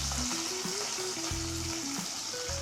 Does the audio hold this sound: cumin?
yes